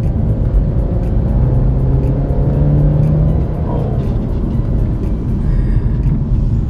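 A 2008 BMW 320 E90 sedan accelerating, heard from inside with a loud steady engine drone that rises in pitch through the first few seconds before easing into a smoother hum, with no talking.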